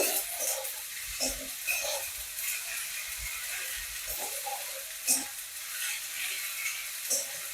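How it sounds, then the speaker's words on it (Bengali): Ginger and garlic paste fry in a pan with a soft, steady sizzle, broken by a few light stirring scrapes, at moderate volume close by. "এবার আমি আদা বাটা আর রসুন বাটা দিয়ে দিলাম এটা একটু ভালো করে ভেজে নেব"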